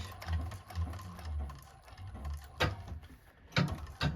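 A sewing machine runs in short stop-start bursts while stitching a handbag, the motor whirring quietly with a few sharper mechanical clicks, no voices.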